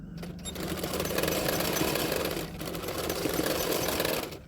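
Domestic sewing machine stitching a seam in blouse fabric, a steady whirring mechanical run with two brief pauses, close and fairly loud, no talk.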